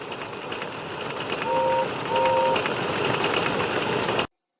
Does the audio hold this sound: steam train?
yes